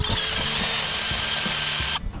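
A power drill with its bit boring into the old wooden handle stuck in a hammer head, a loud, high, steady whine with faint rhythmic ratcheting underneath, running for about two seconds before abruptly stopping.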